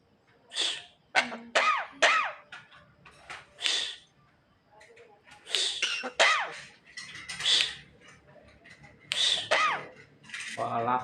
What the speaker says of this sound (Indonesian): Walah batuk